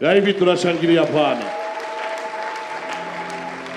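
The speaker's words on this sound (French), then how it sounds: "On acclame le Seigneur" Church congregation applause acclaiming the Lord, a burst of clapping and crowd noise that swells under a preacher's loud voice, then thins and fades into scattered claps and lingering echo.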